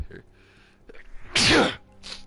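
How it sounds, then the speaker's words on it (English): Single loud human sneeze during a Destiny 2 gaming live stream, a short explosive burst between faint breaths and brief bits of speech. "I don't know where these sneezes are coming from tonight."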